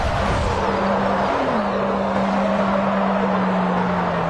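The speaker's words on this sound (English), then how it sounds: "now the Bugatti Chiron." A Bugatti Chiron drives in the BeamNG.drive video game, giving a steady, loud engine drone with a sustained low tone that dips briefly and then holds on, with no talk over it.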